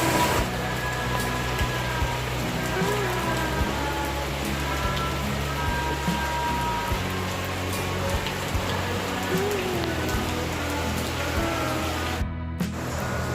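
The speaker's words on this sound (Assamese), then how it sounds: "বাহিৰত ইমান বেছি বৰষুণ দি আছে।" Heavy rain pours down outside a rural Assamese village home, a dense continuous hiss with faint background hum and no talking.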